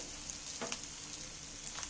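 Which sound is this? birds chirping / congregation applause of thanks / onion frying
onion frying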